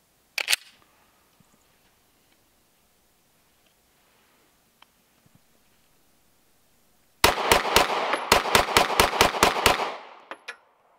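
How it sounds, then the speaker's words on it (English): Rapid fire from a CZ pistol at targets: about ten sharp, loud shots in a fast, even string, close by, after a quiet stretch with a couple of isolated clicks. "Now we'll try a rapid fire and see how many I could actually get on these targets."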